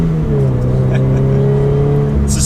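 A Toyota 86 with a TRD exhaust and manual gearbox drones loud and steady, its engine note holding with a slight rise as it revs, heard from close by with some road and wind noise.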